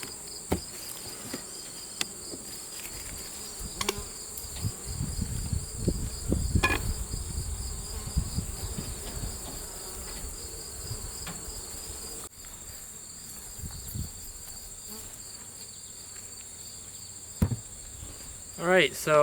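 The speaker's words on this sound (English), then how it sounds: "there are a lot of new bees" Honey bees drone around an open hive in September, a continuous buzzing close to the microphone with a few soft knocks and rustles and no talk.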